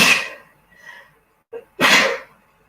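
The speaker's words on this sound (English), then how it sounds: "Sorry, I'm just going to sneeze." A single person sneezes twice, close and loud: a sharp sneeze, a brief breathy pause with a short intake, then a second, bigger explosive sneeze.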